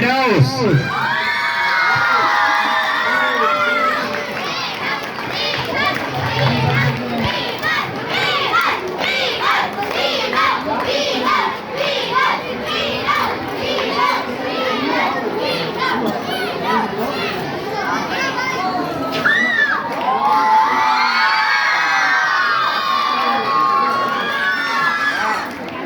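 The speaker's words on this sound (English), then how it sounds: "Give a huge applause." Students at a school annual sports ceremony cheer, shout and applaud as a steady loud crowd roar with children's voices throughout, swelling with excited calls near the start and end.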